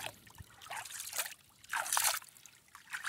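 Clean water leaks onto a street in Antônio Cassimiro, trickling and splashing in uneven bursts that swell and fade, close by and fairly faint, with no talking.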